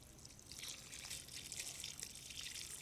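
Water is poured onto brittle human remains at an excavation of graves, a faint steady trickling and splashing with no one talking.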